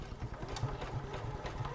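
A Juki F600 computerized sewing machine runs a basic straight stitch at about half speed, giving a soft, even, quick rhythmic whir of needle strokes, faint and steady.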